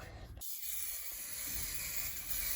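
A continuous hissing spray on an OO-gauge model railway layout, close and steady for a couple of seconds, after a brief burst of noise at the start.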